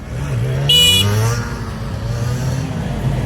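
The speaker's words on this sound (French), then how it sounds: "Je sais pas qui a klaxonné quoi" A car horn honks briefly and loudly in busy street traffic near a market in Bengal, standing out over the low rumble of passing cars.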